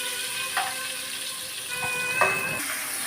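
Onions fry in a pan with a soft, steady sizzle, while a few brief clinks and scrapes of a utensil cut through near the start and again past the midpoint.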